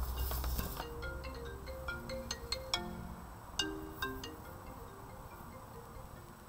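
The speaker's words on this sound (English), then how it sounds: "Oh, I knew that would happen if I didn't turn off my phone" A mobile phone rings in a painting studio, its melodic electronic ringtone playing a run of bright repeated notes in a steady rhythm, fairly close and clear with no talk over it.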